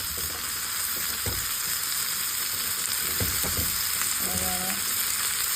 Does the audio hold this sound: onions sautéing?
yes